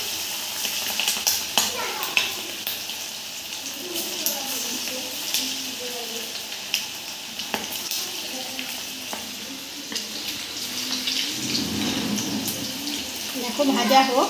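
Chicken pieces frying in hot oil in a home kitchen, a continuous hissing sizzle with scattered crackles and soft clatter, with faint voices in the background.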